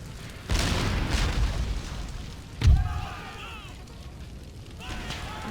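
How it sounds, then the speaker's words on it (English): Two heavy booms of 4-inch mortar shells bursting in the battle game Empire: Total War, a long rumbling blast followed by a sharper, shorter one, with a faint voice and whistling tones in the background. "Oh, 4-inch mortars, 4-inch mortars."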